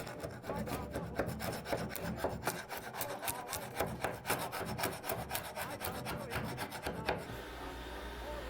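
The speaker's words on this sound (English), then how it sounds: "We're getting right into it with the sanding." Steady rasping of sandpaper rubbed back and forth over the wood veneer of Art Deco furniture in quick, even strokes, close up, with no talking.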